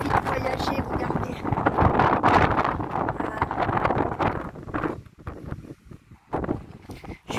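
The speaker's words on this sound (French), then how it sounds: "Je suis en plein vent, hein." Strong outdoor wind buffeting the microphone in gusty, roaring bursts at a scenic spot in Viviers, with a few abrupt lulls near the end.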